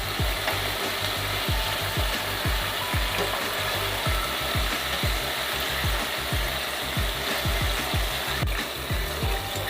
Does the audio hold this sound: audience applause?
no